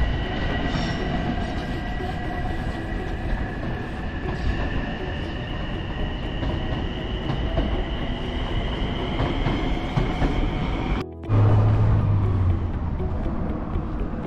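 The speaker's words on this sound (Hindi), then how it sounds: "ये मेट्रो ट्रेन है।" A metro train runs past on a street in Manhattan, New York, a steady rumbling rush of rail noise with a continuous hum lasting through most of the stretch, then a brief dropout and a heavier low rumble near the end.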